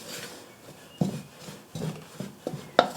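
Soda bread dough is mixed in a bowl with soft scraping and several dull knocks of a utensil against the bowl, fairly quiet and close, with no talk.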